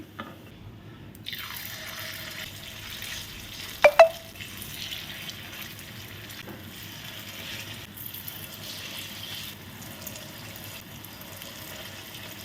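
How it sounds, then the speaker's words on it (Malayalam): Jackfruit paniyaram snack frying in hot oil gives a quiet, steady sizzle throughout, broken by a couple of sharp utensil clinks near the middle. "എന്നിട്ട് ബാക്കിയും കൂടെ ഇതുപോലെ പൊരിച്ചെടുക്കാം."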